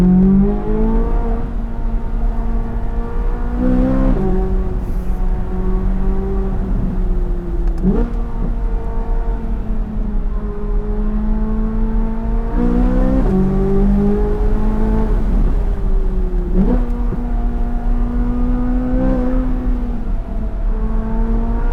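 C8 Corvette Z06 heard from inside the cabin, the engine repeatedly winding up through the gears in long rising pulls with brief dips at each shift, loud, continuous and droning, with no talking.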